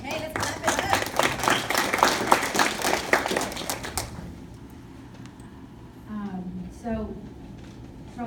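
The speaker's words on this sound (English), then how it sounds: "let's clap it up." Audience at a restorative justice panel applauding, a brisk burst of many hands clapping for about four seconds, then fading into room quiet with a few soft voices.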